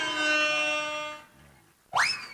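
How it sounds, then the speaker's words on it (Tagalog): A truck horn blares with a sustained, harmonic-rich tone that cuts off abruptly, followed after a short pause by a second rising, wailing honk, fairly close and clear with no talking. "Busina ng truck."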